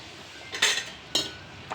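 Spice powder being stirred into simmering tamarind paste in a pan for tamarind pulihora, with two short metallic spoon scrapes against the pan, close and alone.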